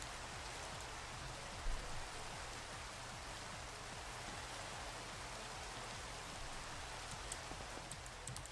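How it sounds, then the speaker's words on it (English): Steady rain falling in the Minecraft modpack GregTech New Horizons, a continuous dense hiss of downpour heard alone with one faint thump early on. "so I don't have to deal with the rain"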